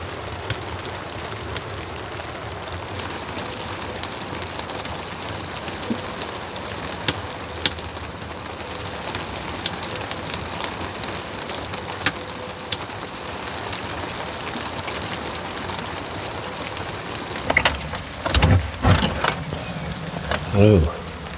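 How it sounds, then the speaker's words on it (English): Rain falling on an RV, a soft continuous patter and hiss heard from inside, with a few louder knocks and thumps toward the end. "Ooh, it is rainy."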